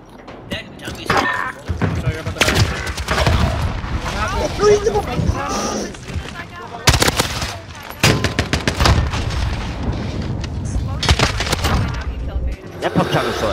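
Pump shotgun blasts and other gunfire from Modern Warfare's Search and Rescue mode crack repeatedly amid loud, dense game action, with players talking excitedly over the shots.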